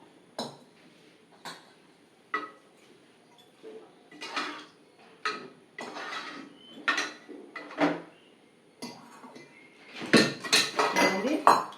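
Dishes and a serving spoon clink and scrape as mixed-vegetable coriander kootu is moved into a serving bowl in a home kitchen, a string of close, irregular knocks and taps with a denser clatter near the end.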